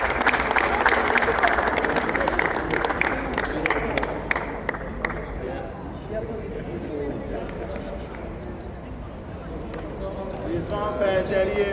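Crowd applause and cheering at a 40+ veterans' football final at Pianer Arena, a dense, steady clapping roar under a talking announcer for the whole stretch.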